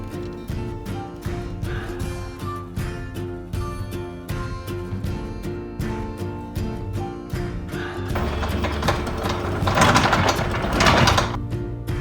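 A steady, rhythmic mechanical clatter of a boat's anchor winch hauling up, ticking evenly and close, growing louder and rougher toward the end.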